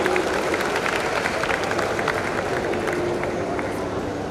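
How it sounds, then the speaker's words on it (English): Dense, steady applause from an audience, a continuous wash of many hands clapping at moderate loudness with no pauses. "We need applause from the audience"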